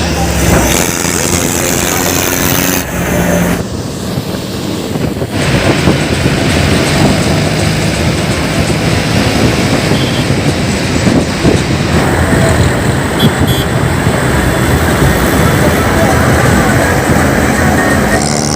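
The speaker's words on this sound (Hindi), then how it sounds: "ये देखिए किसानों की ये बेहतरीन और शानदार रैली, ट्रैक्टर रैली।" Many farmers' tractors of varied styles roll past in a large tractor rally headed for Palwal, producing a loud, continuous engine roar and rumble that holds steady and close for the whole stretch.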